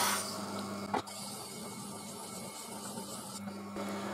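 A Tormek sharpening system's wheel grinds a blade, heard as a steady close-up motor hum with grinding hiss that briefly spikes and shifts as the blade is pressed and moved.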